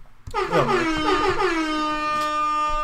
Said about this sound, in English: And we got the double air horn